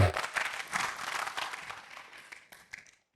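An Indonesian church congregation gives a brief round of applause to God, a dense burst of many hands clapping that thins into a few scattered claps and dies away within about three seconds.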